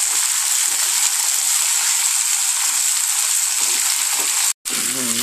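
Coriander leaves frying in hot oil for Rayalaseema mutton biryani give off a loud, steady hiss that holds at one level. The sizzle is cut off by a brief gap near the end.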